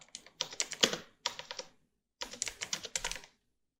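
Quick bursts of close keyboard typing while a search is entered, rapid clicking keystrokes in two runs separated by a short pause, with no talking.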